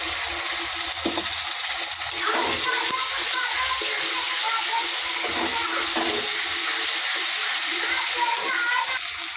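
Rinse water from a mixer jar poured into a pan of spiced katla fish for doi katla, a loud, steady rushing splash that runs unbroken from start to finish, close by and filling the space.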